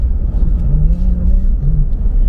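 Car descending a mountain road, its engine a low steady rumble close by with a faint hum wavering through it, continuous and unbroken throughout.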